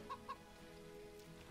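Two quick, soft clucks from chickens in the video game The Witch of Fern Island, close together at the start, over a faint background of gentle rain and soft game ambience.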